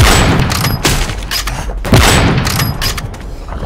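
Dense gunfire in the video game Left 4 Dead 2, loud repeated shots and booms crowding together with little pause, close and harsh throughout.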